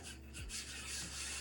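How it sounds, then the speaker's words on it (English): A brief, faint rubbing and rasping of something worked against a surface to lift paint off, a soft scratchy scrub with one or two strokes. "give it a good rub"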